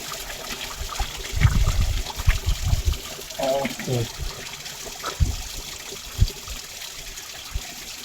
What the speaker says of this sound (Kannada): ಆ ನೀರ ಇಲ್ಲಿ ಬರ್ದೈತಿ ನೋಡ್ರಿ